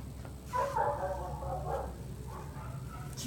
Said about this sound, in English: You hear the dogs out